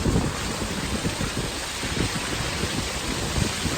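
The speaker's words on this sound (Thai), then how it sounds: "ที่พุ่งมาก็เจอฝนฟ้าคาดแปรปรวน" Stormy weather at a hilltop temple near the Thai–Myanmar border, with steady wind rushing and rain hissing continuously, loud broadband noise and gusty buffeting against the microphone throughout.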